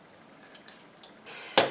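Water poured into a small pot while making a body cream, heard as a brief near splash and trickle at the end after a few faint drips and clinks.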